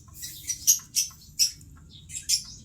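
A bird from a Palawan breeding line, held in the hand, gives a series of thin, high-pitched squeaky calls, about six short bursts close by over a low background rumble.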